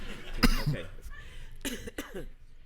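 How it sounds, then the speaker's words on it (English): A person coughs a couple of times up close, short harsh bursts with a brief pause between them. "I'm gonna cough real quick."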